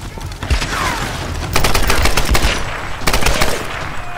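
Loud bursts of rapid automatic gunfire from the Tomb Raider video game, with dense overlapping shots and brief pauses between volleys, close and dominant over the game's background noise.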